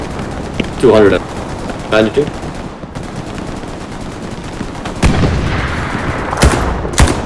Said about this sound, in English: Shots